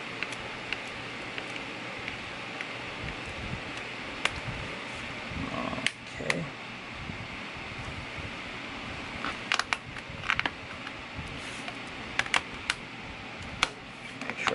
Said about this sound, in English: We're gonna reattach the screws